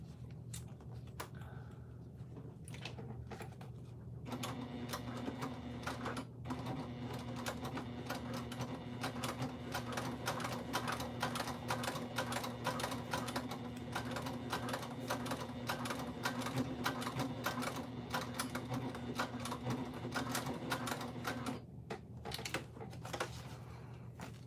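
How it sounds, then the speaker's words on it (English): A sewing machine stitches the corner of a fabric wristlet in a long, rapid, steady run of needle clatter, close and fairly quiet, starting after a few seconds of handling noise and stopping near the end. "I'm gonna sew this corner really quick again."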